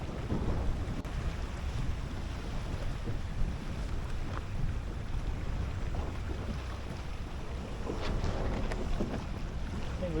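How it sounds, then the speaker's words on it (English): A Grand Soleil 40 sailboat running dead downwind in 14 knots of breeze, a steady broadband rush of wind and water around the hull, constant and fairly loud, with no speech. "we're sailing dead downwind in 14 knots of breeze"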